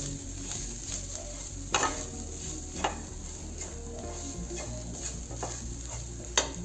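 Coriander powder and other spice powder sautéing in a pan for radish paratha, a steady close sizzle with occasional sharp scrapes and clinks of a spoon stirring against the metal.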